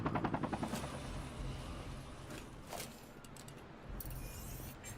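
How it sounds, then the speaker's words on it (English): Military helicopter in the video game Sniper: Ghost Warrior Contracts, a close rhythmic rotor thumping that fades slightly, with sharp bursts of gunfire mixed in over a few seconds. "The helicopter."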